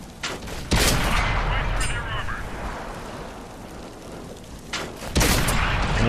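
Tank cannon shells fire from a VK 30.01 D in World of Tanks on Xbox 360: two heavy, booming blasts several seconds apart, each with a rolling tail, over constant battlefield noise and a voice talking.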